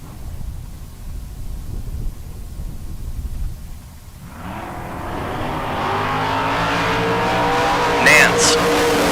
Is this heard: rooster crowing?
no